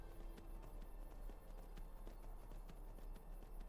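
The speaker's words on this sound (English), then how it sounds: "I can hear that goat's footsteps." Goat hooves tapping in a steady, light run across the ground in Skyrim, the clip-clop repeating evenly over a low, constant game ambience with no talking.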